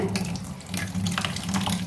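Steady running water from a tap splashes continuously over tulsi leaves being rinsed, close and fairly loud, with no voices.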